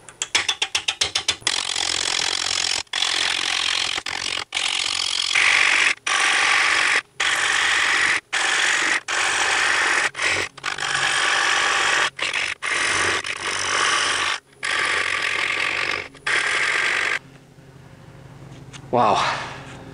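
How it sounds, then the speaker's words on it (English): Wood lathe turning a cherry bowl with a 5/8 inch bowl gouge at about 450 RPM, a loud continuous rattling, chattering cut broken by brief pauses, ending with a short gap and a faint whine. "We're on the lathe."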